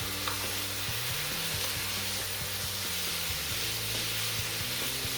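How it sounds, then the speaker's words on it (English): Meat sizzles steadily in a pot for a Portuguese-style carrot soup, a dense continuous frying hiss with faint spoon scrapes and clinks underneath, close and even throughout, no talking. "I'm just going to let this saute away"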